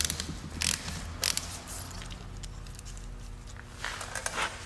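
A ratchet fitted with a T55 bit breaks loose a threaded fitting in the engine block of a 2001 GMC Sonoma 2.2L during an engine replacement. A few short metallic clicking bursts come through, close and moderately loud, over a steady garage hum.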